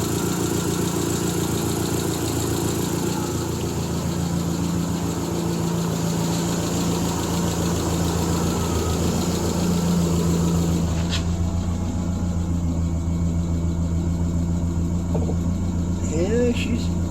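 An old classic car engine idles steadily up close, with a low rumbling throb and a ticking, puffing exhaust note from a leak at the exhaust manifold that holds throughout.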